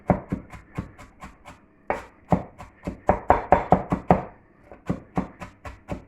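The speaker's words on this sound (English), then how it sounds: "We'll chop the onions away" A knife chops onions on a board in quick, close, distinct knocks, in uneven bursts with short pauses between them.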